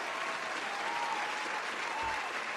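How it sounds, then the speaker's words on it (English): A crowd applauds steadily and evenly at a festival gathering, a dense wash of claps that holds at constant loudness from start to finish. "Let's give them a well-deserved round of applause."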